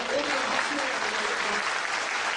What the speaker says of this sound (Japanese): 皆さん大きな拍手をお願い